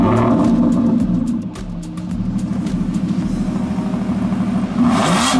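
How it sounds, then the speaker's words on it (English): Older car with an analog gauge cluster started with the key: a cranking churn, then the engine catches and settles into a loud, steady idle rumble with a brief rev near the end. "Now let me put it in the key so that you guys can see how it turns on."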